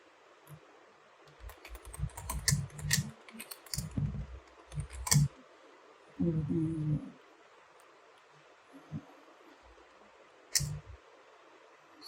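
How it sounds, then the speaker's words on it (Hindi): Keys on a computer keyboard clatter in quick irregular bursts, fairly close, with pauses between runs of typing and no talk over them. "मैं पहले टाइप कर लेता हूँ"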